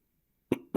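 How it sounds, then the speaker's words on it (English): After a stretch of silence, a person clears their throat close by in two short, rough bursts. "Had to clear my throat."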